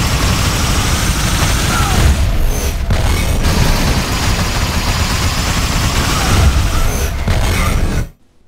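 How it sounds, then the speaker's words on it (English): Dense, booming bursts of video game combat roar almost without pause as a warp rifle sets off black hole explosions that tear enemies apart, loud and close, before cutting to sudden silence at the end. "a black hole appears and rips enemies apart"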